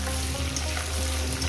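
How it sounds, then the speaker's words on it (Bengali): Spinach, radish and other vegetables frying in a pan, a steady close sizzle with light stirring scrapes running through the short stretch, no voices. "প্রথমে এই সবজিগুলো আমি ভালো করে ভেজে নেব।"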